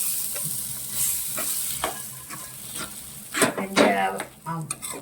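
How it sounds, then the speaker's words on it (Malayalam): Ground spice paste with roasted coconut stirred and fried in a pan for erissery, an Onam curry of cowpeas and pumpkin; steady close sizzling with repeated scraping strokes that grow louder near the end. "അരച്ച് വെച്ച അരപ്പ് ചേർത്ത് നന്നായിട്ട് വഴറ്റിയെടുക്കണം"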